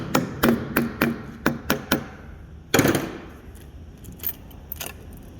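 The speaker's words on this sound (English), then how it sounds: "Let's pop this valve cover off." Metal valve cover being pried and lifted off an LS engine during a swap into a 1970 Chevelle, heard as a series of sharp close clanks and knocks, then a louder clatter and a few lighter taps.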